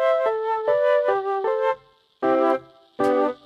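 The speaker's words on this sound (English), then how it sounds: "I've got a keyboard sound from the Yamaha Mode DX called Tapes, which is purposely made to sound like this." A Yamaha MODX keyboard's "Tapes" patch, a lo-fi Mellotron-style tape sound, plays a short melodic phrase of alternating notes and ends with two held chords, with no voices.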